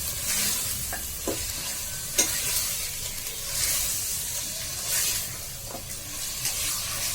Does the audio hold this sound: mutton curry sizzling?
yes